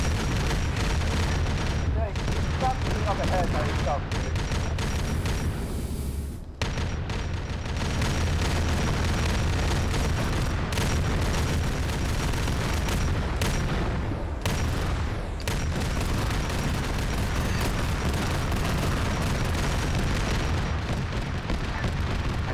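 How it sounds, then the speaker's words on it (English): Loud, sustained gunfire from bolt guns in a Warhammer 40k video game, a dense unbroken barrage of booming shots with one brief drop around the middle, and voices talking under the din. "I can't even hear the local comms because the freaking bolt guns are so loud."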